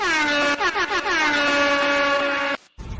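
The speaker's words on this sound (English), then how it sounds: "I'll throw some air horns for you." A blaring air-horn sound effect blasts loud and sustained, with a few brief stutters early on, then cuts off abruptly near the end.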